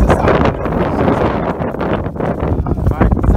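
Strong wind buffets the microphone in a steady low roar outdoors beside a grill where fish is cooking, with people talking underneath.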